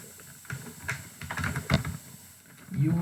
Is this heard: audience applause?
no